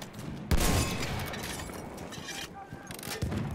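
Frommer Stop automatic pistol from Battlefield 1 firing in short bursts, sharp loud reports with rapid repeated shots and a brief pause before a final burst.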